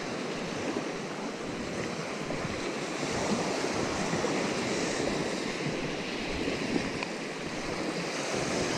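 Small waves washing onto a beach where someone is fishing from the shore, a steady, close surf wash with a bit of wind noise on the microphone, no voices.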